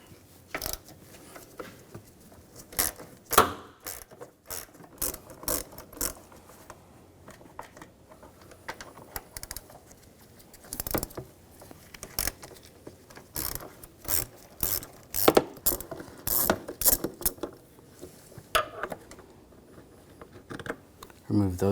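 A 10mm socket ratchet works the valve cover bolts on a 2007-2013 BMW X5 3.0L inline-six, giving scattered bursts of sharp clicking and metallic taps close up, with pauses between runs.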